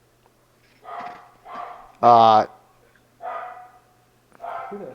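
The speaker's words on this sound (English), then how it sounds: "All those barking ass dogs." Dogs bark in a series of short yaps around a house, with one loud, ringing bark in the middle, while people talk nearby.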